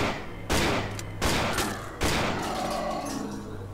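An enemy fires in the horror game Cry of Fear: three loud bursts of gunfire at about one-second intervals, each trailing off into echoing noise, with no talking.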